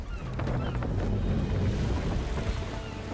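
A sailing ship under way in wind in Assassin's Creed III sounds as a dense, loud wash of rushing wind and water with creaking and flapping, brief and without talk.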